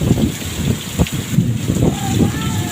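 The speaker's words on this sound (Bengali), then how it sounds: "বাইরে বেরোনো সম্ভব নয় বৃষ্টিতে, প্রচণ্ড ঝড়।" Strong storm wind gusts and heavy rain roar near the river at Angtiara, facing Daulatpur, a steady broadband rush with low buffeting on the microphone and occasional thumps, no voices.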